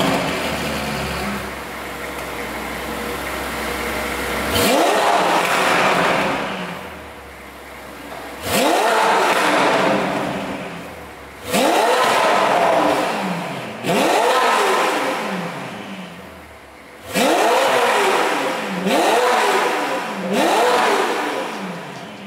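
A Ferrari F8 Tributo engine with a Novitec aftermarket exhaust starts and revs repeatedly, several sharp roaring bursts with crackling pops from the exhaust, each falling back to a rumbling idle, close by.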